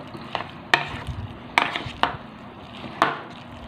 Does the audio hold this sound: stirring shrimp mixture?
yes